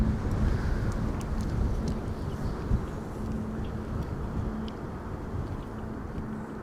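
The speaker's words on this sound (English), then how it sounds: "You can also hear that GE90s are being started." A steady, broad low roar of GE90 jet engines spooling up in the distance at an airport, with a faint sustained hum and wind-like rumble throughout.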